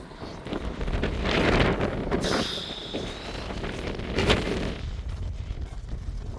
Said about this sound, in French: là ça a soufflé, mais soufflé